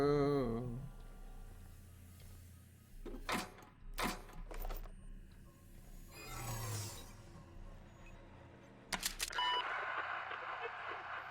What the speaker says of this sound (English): The intercom turns on with a click-click noise preceding a beep